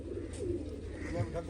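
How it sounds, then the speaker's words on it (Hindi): A group of newly bought pet pigeons cooing softly nearby, a couple of low murmuring coos over a short, quiet stretch. "10 कबूतर अभी नए नए अभी अभी लेके पहुंचे हैं।"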